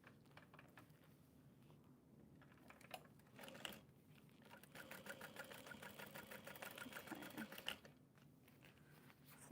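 A sewing machine stitches across a tote bag with a rapid, rattling mechanical run that builds in the middle and continues steadily for several seconds, faint and close, with brief pauses at the start and end.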